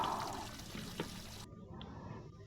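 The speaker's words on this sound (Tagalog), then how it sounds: "Hugas na tayo." Faint running water pours steadily while dishes are washed in the Roblox game Brookhaven, then cuts to a quieter trickle.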